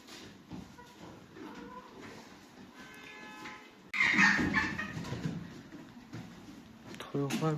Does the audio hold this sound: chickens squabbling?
yes